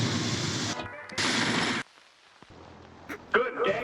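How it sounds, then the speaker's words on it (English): An explosion in a video game bursts loudly in two roaring blasts, then falls away into a quieter tail with a few sharp pops near the end. "Wild-ass explosion after."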